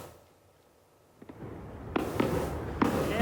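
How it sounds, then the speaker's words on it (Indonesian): Distant fireworks over Mount Rushmore popping after a quiet start, several sharp booms spaced irregularly over a low rumbling background. "langit di atas Gunung Rushmore berkilau oleh ribuan letusan kembang api"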